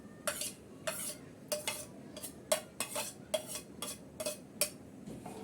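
A spoon stirring grated egg into boiling milk for egg payesh, a series of about ten distinct scraping clinks against the pot in an uneven rhythm over a faint bubbling background; no talking.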